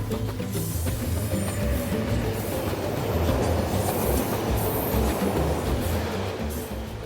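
The Iron Ore Express, a very long freight train crossing the Sahara in Mauritania, rumbles steadily with dense rolling wheel noise and rattling wagons, loud and continuous throughout.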